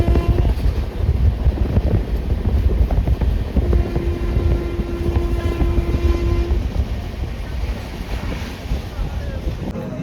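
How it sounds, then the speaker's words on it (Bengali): Train running along the line after leaving Kharagpur station, a steady rumbling roar with wind noise from onboard, continuous and fairly loud with no talk. "আমাদের ট্রেন খড়গপুর স্টেশন ছেড়ে বেরোলো"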